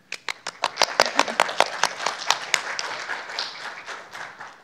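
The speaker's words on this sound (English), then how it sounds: "So can we all give a round of applause for a very impromptu speaker?" Audience applause for an impromptu speaker at a tech security talk on malware: scattered sharp claps that quickly build into a dense, steady round of clapping filling the room, then thinning slightly toward the end.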